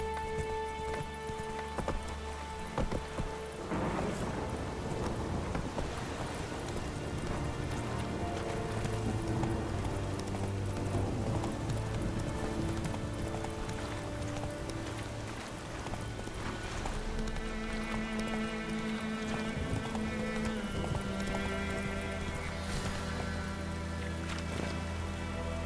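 Hooves of Roach, the horse in the video game The Witcher, clip-clop steadily at a gallop throughout, layered under game music with rain-like ambience and no talk.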